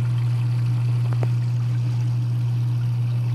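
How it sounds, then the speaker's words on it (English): A dishwasher drain pump that hums but won't drain, its motor turning steadily with no water moving through the line. The low hum holds constant and loud across the whole stretch, with no voices. "So it sounds like the motor's turning in there."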